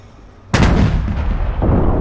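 A tank cannon fires in a combat video game, one sudden loud boom after a quiet lead-in, followed by a long rumbling decay and a second, softer thump near the end.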